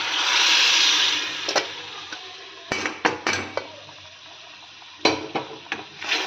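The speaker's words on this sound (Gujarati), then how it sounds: "સરખી રીતે આપણે મિક્સ કરી લઈએ." Dal and grated tomato stirred together in a cooking pot, with a sizzle early on, then scattered clinks and scrapes of a spoon against the metal pot, close and moderately loud.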